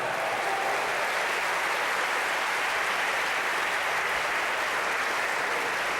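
A church congregation applauds steadily and densely for the full stretch, a continuous wash of many hands clapping at even loudness with no break or pause.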